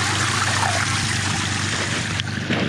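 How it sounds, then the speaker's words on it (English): A small bubbling rock water feature at a front door, water trickling and splashing in a steady close babble with a brief sharp knock near the end. "It's a really cool little waterfall."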